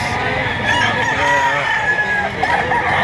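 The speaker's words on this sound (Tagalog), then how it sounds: "Hanggang dito sa dulong ito, napakaraming manok." Several roosters crow over one another amid a dense, noisy crowd of birds clucking, with continuous background din from a busy livestock market in Lipa, Batangas, Philippines.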